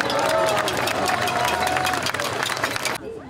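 Outdoor crowd at a political rally in Nice applauding, a thick, continuous roar of clapping and cheering that cuts off abruptly near the end.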